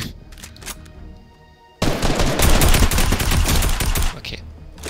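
Sustained burst of rapid automatic gunfire in the Fortnite Creative Mode zombie run, loud and dense after a quieter stretch of scattered shots and game noise, with a voice talking over parts of it.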